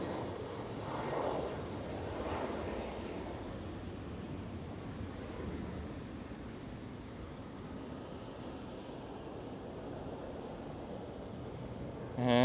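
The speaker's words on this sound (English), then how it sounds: "it's a Chinese freighter" A Chinese Boeing 777 freighter at Amsterdam Schiphol makes a continuous, moderately distant jet rumble and hiss, swelling slightly early on before settling into a steady drone.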